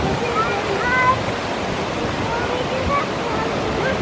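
Flowing water beside a hiking trail at Russian River Falls near Cooper Landing, Alaska, heard as a continuous broadband rush of moderate loudness that stays steady throughout, with faint voices nearby.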